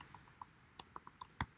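Typing on a computer keyboard, with a handful of quiet, irregular key clicks and one sharper keystroke near the end.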